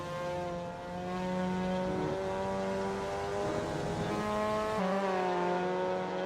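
A Clubman race car driven hard on a circuit, its high-revving engine wailing through rising and falling gear notes and shifts, fairly distant and alone with no talk.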